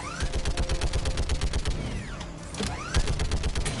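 Rapid turret gunfire in Mass Effect 3 rattles in fast repeating bursts, with a short lull and whooshing sweeps before the firing resumes close and loud.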